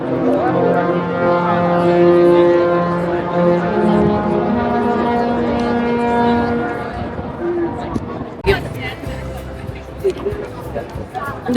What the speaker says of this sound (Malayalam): ഷിപ്പ് ഇപ്പോൾ പോവാണ്. അതാണ് അതിന് മുന്നേ അവര് ഒരു ഹോങ്ക് ചെയ്തത് പാട്ട് പോലെ